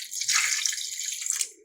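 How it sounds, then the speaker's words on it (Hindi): Half a glass of water poured into a pot of mutton with garlic-ginger paste, a short bright splashing gush lasting under two seconds, close and alone. "तो इसके बाद हम इसमें आधा गिलास पानी ऐड करेंगे"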